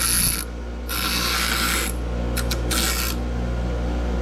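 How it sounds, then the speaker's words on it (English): An angle grinder shines down and deburrs the metal wheels of a chicken tractor, a loud close whine in bursts with short pauses, over a steady low hum. "And we're just gonna get the grinder going here."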